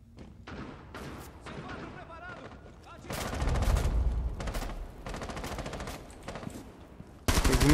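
Gunfire from the tactical shooter Rainbow Six Siege, with scattered shots and rapid bursts, some muffled and heavy, mixed with thuds, while people talk throughout.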